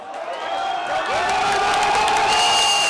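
A crowd at a Russia versus England soccer match cheers loudly and continuously. Whoops and shouted voices rise over a dense roar that swells toward the end.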